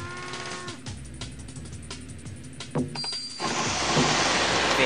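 Cows mooing in the game 3D Ultra Lionel TrainTown Deluxe, with a few low lowing calls over a busy electronic soundtrack that swells louder toward the end.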